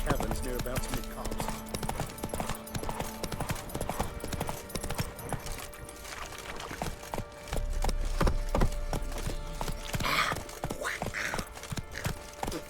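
Roach the horse from The Witcher 3 trots with steady clip-clop hoofbeats, close and continuous under a man's spoken lines and game ambience, with a brief whinny-like burst near the end.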